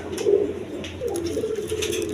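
A pair of big owl shirting pigeons coos in low, throaty rolls, with a short burst early on and then a steadier run of cooing close by, with no talk.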